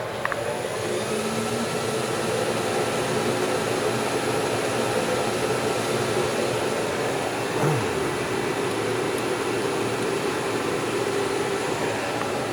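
A Kent 10 hp bed mill with 3-axis CNC running its spindle, giving a steady broadband machine whir and hum that holds at an even level throughout, with a faint high whine on top and no talking.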